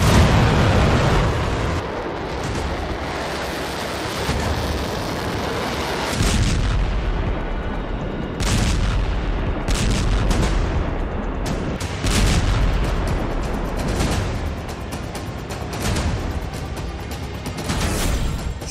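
Heavy, continuous rumbling with repeated booms and sharp blasts, loud and sustained throughout, like a barrage of explosions and artillery fire, from the Israel–Lebanon border conflict.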